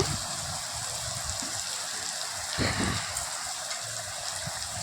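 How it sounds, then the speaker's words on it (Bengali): Ghetu (ghetkol) leaf paste hitting hot oil in a home kitchen pan, giving a steady close hiss and sizzle throughout with a brief louder surge near the middle, no talk. "তারপর তেলের মধ্যে পাতা বাটাটা দিয়ে দেব।"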